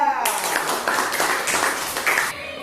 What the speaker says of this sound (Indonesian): Kita berikan tepuk tangan untuk Rifa.